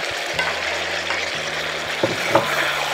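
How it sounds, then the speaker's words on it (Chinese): Abalone stir-fried in sauce in a wok, giving a steady close sizzle with scraping stirring strokes and a few sharper clanks of the spatula against the metal, with no voices. "继续的翻炒，让鲍鱼也充分吸收这种酱料的味道"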